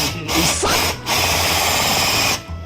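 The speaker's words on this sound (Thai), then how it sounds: "ตอนนี้เป็นขั้นตอนการเจาะท่อนำเข้านะครับ" A power drill bores a hole in a plastic inlet pipe for a homemade fish pond filter tank. It runs in a short loud burst, pauses briefly, then whines again in a longer continuous run before stopping.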